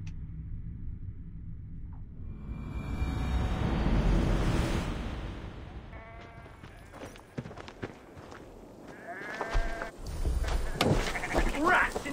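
Sheep bleat in the Assassin's Creed Valhalla video game amid wheat fields, mixed with footsteps and game sounds, with clearer bursts later, while a person talks over part of it.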